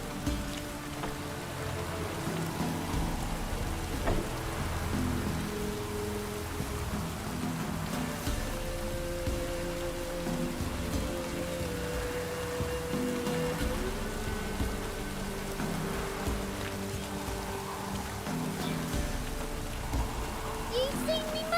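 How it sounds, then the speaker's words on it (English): Steady rain falling in The Witcher 3 in the Velen region, a continuous hiss of drops on surfaces that runs throughout at moderate level beneath faint background game sounds. "looks like rain."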